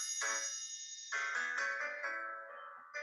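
A smooth five-note legato warm-up pattern of connected tones stepping up and back down, clear and close, with no talking.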